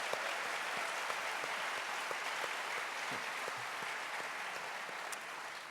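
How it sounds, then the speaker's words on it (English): A large audience at a Unitarian Universalist general assembly session applauds steadily and evenly for Beacon Press, a dense wash of many hands at moderate, consistent loudness with no voices over it. "And you can applaud Beacon for that."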